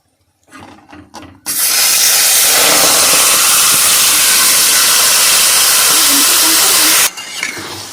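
Marinated duck meat drops into a hot pan of oil with chillies, producing a loud, continuous hissing sizzle for about five seconds after a few brief clatters.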